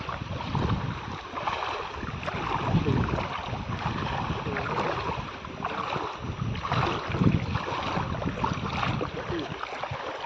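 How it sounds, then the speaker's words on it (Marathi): Strong wind roars and buffets the microphone in continuous gusts for the whole stretch, with no voices. "वारा बघा किती सुटलाय कडिया वारा"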